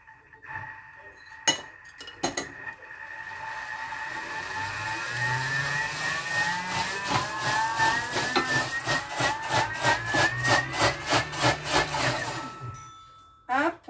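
A kitchen robot blending fish soup ingredients with juniper berries at speed 7, a whirring motor that rises in pitch as it spins up, then rapid rhythmic chopping knocks and clatter in the bowl, close and fairly loud.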